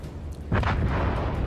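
A loud explosion booms through a World of Warships naval battle, a sudden broadband blast at mid-clip that stays heavy and rumbling over steady game noise, with no talk.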